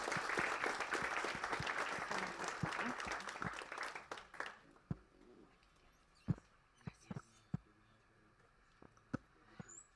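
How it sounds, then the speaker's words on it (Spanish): Conference attendees at a school event on visual disability give a doctor loud applause that dies away after about four seconds, leaving a few scattered claps and small noises in a quiet room. "Le damos un fuerte aplauso a la doctora."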